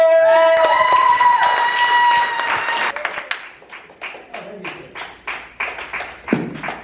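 A comedy club audience claps, starting as a loud burst with cheering and thinning into scattered individual claps that fade out.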